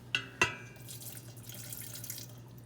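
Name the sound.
chicken broth poured into a soup pot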